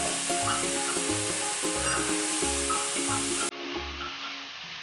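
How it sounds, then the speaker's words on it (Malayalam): Vegetables for veg momos sauté in a hot pan, giving a steady, close sizzle and hiss, with rhythmic stirring strokes scraping through the frying throughout. "വെന്തുടയൊന്നും വേണ്ട, ഒരു പകുതി വേവാവുന്നവരെ നമുക്കൊന്ന് വഴറ്റിയെടുക്കുക വേണ്ടത്"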